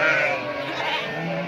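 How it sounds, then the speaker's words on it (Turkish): Sheep and lambs bleating loudly and continuously after being separated on a Turkish village farm, several overlapping calls close by. "Koyunları kuzularından köyde olduğu gibi ayırdık."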